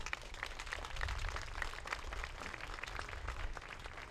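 Audience applause at a Learning Corner graduation ceremony, a steady wash of many hands clapping at moderate level for about four seconds, with no speech over it.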